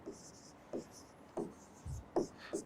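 A pen writes an answer by hand in short, scratchy strokes spaced about half a second apart, close and soft, under a faint voice.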